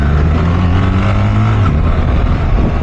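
BMW R1300 GS motorcycle engine running loud and steady nearby, a constant low rumbling drone with a rough throbbing texture that holds unbroken throughout, with no talk over it.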